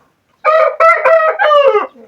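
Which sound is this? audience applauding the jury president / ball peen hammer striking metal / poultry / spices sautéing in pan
poultry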